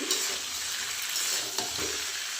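Soybeans being stirred into a coconut milk curry in a pan, giving a steady, loud sizzling bubble with a spatula scrape or two close by and no one talking.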